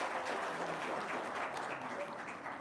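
A small gathering claps in a soft, even patter of applause that runs throughout at moderate distance, faint and without voices on top.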